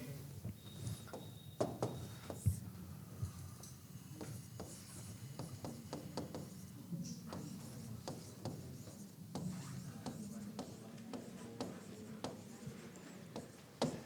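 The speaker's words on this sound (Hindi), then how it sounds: "एक सेंटेंस और लिख रहा हूं" Pen writing a sentence on a board or paper during an English grammar class, scratchy strokes and taps in irregular bursts, close and fairly quiet with faint room noise.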